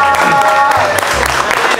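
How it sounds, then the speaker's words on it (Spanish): Applause and clapping from a crowd inside a Mexican restaurant after an eating challenge with a 3 kg platter, a short burst of dense clapping mixed with music and voices. "Un aplauso, pero para el negocio que sí se rifó haciendo esta charola, por favor."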